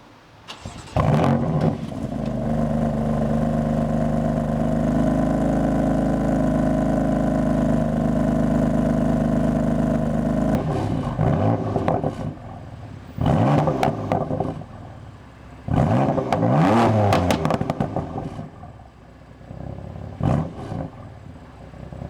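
A BMW M4 engine as the car is driven into an indoor detailing space: a loud, sustained deep exhaust roar lasting about ten seconds, followed by several short revs and throttle blips echoing in the enclosed room.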